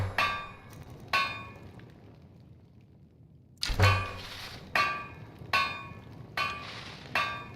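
Metallic hammer strikes at a smithing forge while making iron bolts in Skyrim: a few ringing clangs, a pause, then a steady run of evenly spaced, resonant hits, fairly close and clear.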